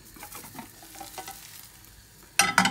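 Spinach tortilla cooking in a frying pan while being flipped: a quiet, low sizzle with light scraping carries on for most of the moment, then two loud, bright bursts of sizzling clatter erupt at the end as the tortilla goes back into the pan.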